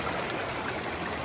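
Man-made landscaped waterfall and stream along the historic Mungyeong Saejae provincial park trail, a steady broadband rush of flowing water, close and continuous with no voices.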